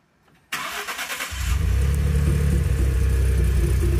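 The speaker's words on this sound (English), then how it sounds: "we are back with our 2011 Ford F-150 with the suspected exhaust leak" A 2011 Ford F-150 pickup with an exhaust leak cranks with a rhythmic starter whir, then catches and settles into a loud, rumbling idle with a raspy, blatty exhaust.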